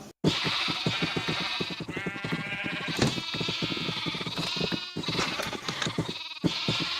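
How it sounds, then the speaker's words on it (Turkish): Sheep in a video game bleat again and again, loud and close, the calls overlapping in a dense, continuous chorus with only a brief gap near the start. "her saniye koyun gelecek buraya"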